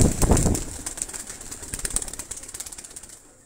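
Migratory pigeons in a loft cooing and fluttering, with a burst of wing flaps near the start, then steady soft rhythmic calls and rustling that fade toward the end.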